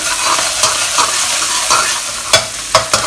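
Chili bean paste fries in oil with a loud, close sizzle, while a spatula scrapes and stirs through it, producing several sharp clacks near the end.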